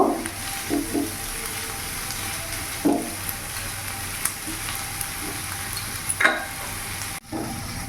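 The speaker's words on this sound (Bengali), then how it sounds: "এবার যতক্ষণ না পেঁয়াজের কাঁচা ভাব যাচ্ছে, সফট হচ্ছে, ততক্ষণ আমি ভেজে নেব।" Onions sizzle steadily in hot oil for aloo paratha filling, with occasional soft scrapes and taps of a spatula stirring the pan.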